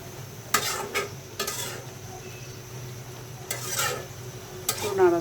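Radish greens with salt stirred in a pan, releasing plenty of water: a steady low sizzle with several sharp scraping strokes of a spatula spread through, close by, no talking.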